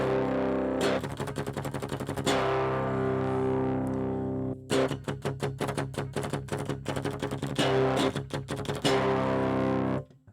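Electric guitar played dry through a DI box into a Bogren Digital AmpKnob Rev C amp simulator, heard alone with no talk: sustained chords give way to tight, rhythmic palm-muted chugging, with a brief gap near the middle.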